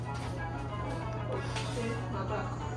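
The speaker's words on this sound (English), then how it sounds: "That's the sound of the extractor." Steady buzzing hum from an extractor fan inside a small shared house room, a constant low drone that fills the space without pause.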